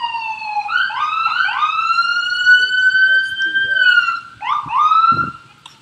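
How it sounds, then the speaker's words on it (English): An emergency vehicle siren wails loudly nearby during a baseball game in Toronto, sweeping up and down in repeated rising and falling tones, with brief muffled sounds underneath. "Apologies there, the siren."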